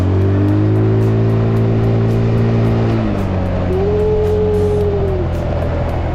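A 2012 Honda Beat carbureted 110 cc automatic scooter accelerates, its engine drone rising loud and close and then easing off, with no talking over it.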